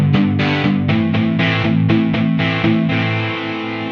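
A heavily distorted electric guitar on an AeroBand smart guitar's distortion tone plays a series of chords and notes, each struck in a steady rhythm with a thick, saturated tone, loud and close.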